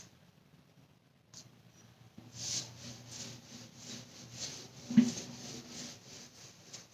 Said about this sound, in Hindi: अब मैं इसको मिटा करके इस पे लिखती हूँ व्याकरण